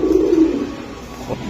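A Giribaz pigeon gives a low, close, breathy coo lasting about half a second, followed by a fainter, shorter coo near the end.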